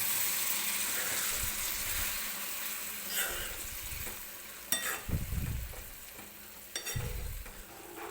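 Hot water splashes into a pan of frying cluster beans (guar), setting off sharp bursts of sizzling and bubbling over soft stirring, fairly quiet and close.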